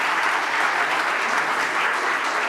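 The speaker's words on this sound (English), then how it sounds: "A round of applause for him, please." Steady applause from a conference audience greeting a panelist at a Latin American cities event in Santo Domingo, dense and even throughout with no talking.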